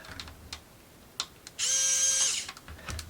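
An electric screwdriver removes screws from a DualSense controller: a brief high whir of under a second, preceded by scattered small clicks and taps of handling, quiet and close.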